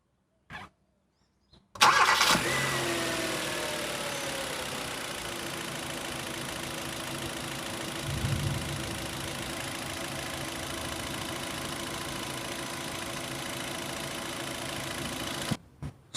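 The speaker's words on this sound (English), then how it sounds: "let's try start the engine if all working good" A Kia Cerato engine cranks briefly and fires after a short pause, then settles into a steady, close idle that runs smoothly until a click near the end.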